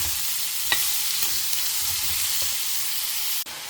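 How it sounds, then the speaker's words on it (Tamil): Snake gourd pieces fry in oil over a low flame, giving a steady close sizzle broken by light scraping stirs, ending with a brief clunk as the sound drops. "இந்த மாதிரி எண்ணெயில் கொஞ்சம் வதக்கிட்டு உப்பு போட்டு சாப்பிட்றது தான் எனக்கு பிடிக்கும்."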